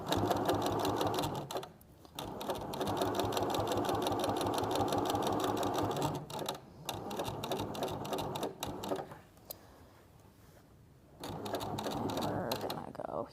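A sewing machine stitches a spring pillow in close, fast rhythmic runs with several short pauses for a back stitch, while a voice talks intermittently over the whirring.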